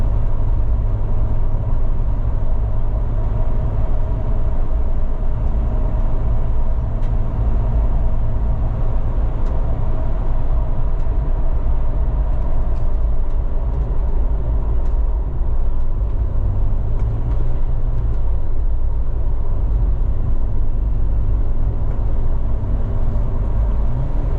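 A car rolling on Kanati Terra Commander RTX tires, building toward highway speed, gives a steady loud low road and engine rumble with tire hum throughout, no speech.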